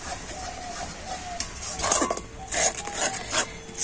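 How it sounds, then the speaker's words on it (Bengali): Spatula stirring a thick milk powder sandesh mixture in a pan over low heat, soft rubbing scrapes repeated in uneven strokes, close and moderate in level with some background hiss. "আর এখন আমি এইভাবে হালকা জাল দিয়ে কন্টিনিউ নাড়াচাড়া করে নেব।"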